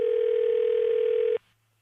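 A steady telephone dial tone hums alone for over a second at a constant loud level, then cuts off abruptly, leaving only faint low hum.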